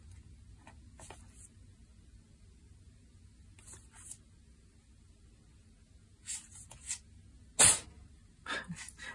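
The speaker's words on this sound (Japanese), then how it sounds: "またくしゃみが。" A single sharp, loud sneeze bursts out near the end of a quiet stretch marked by faint rustling and soft scattered noises.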